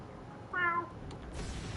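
A single short cat meow in the DC Universe Online video game, a brief bright call over a steady background hum, followed by a faint clicking shuffle.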